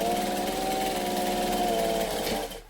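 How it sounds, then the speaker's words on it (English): Sewing machine top stitching fabric while making a Seams Legit Vixen garment, a steady, fast, even mechanical whir with a rapid stitching rhythm that runs close and loud for nearly three seconds before cutting off abruptly. "we're going to top stitch this one as well"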